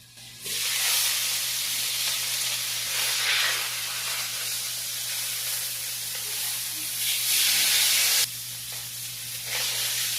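Fish fries in a pan with a loud, steady sizzle and hiss lasting several seconds, briefly dropping away then returning, over a faint low hum.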